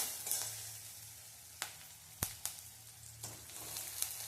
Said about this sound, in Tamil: நல்லா வெங்காயத்தை நல்லா பொன்னிறமாக வதக்கிடலாம்.